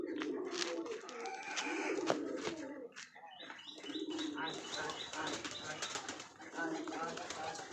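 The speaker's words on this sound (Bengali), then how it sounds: "পায়রাগুলো সব খাবার খাচ্ছে এবার।" Pigeons in a sunny loft coo and flutter while pecking at feed, with soft repeated coos, chirps and occasional wingbeats close by.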